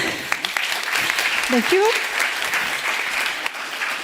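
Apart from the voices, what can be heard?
audience applause for Irene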